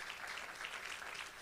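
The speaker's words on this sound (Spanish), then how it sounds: "Tribútele un aplauso fuerte a su Señor." Congregation applauding in a church service, a brief burst of dense clapping heard at a distance and fairly faint.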